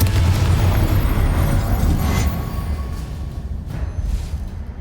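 In Hogwarts Legacy, a Confringo fire spell bursts with a loud, deep explosive boom that rumbles and slowly fades over a few seconds.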